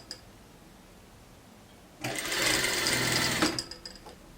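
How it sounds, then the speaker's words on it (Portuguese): A home sewing machine stitches a fabric seam in one quick burst of rapid, buzzing needle strokes lasting about a second and a half, close and loud after a quiet start, then tapering off with a few short clicks. "E sigo a costura."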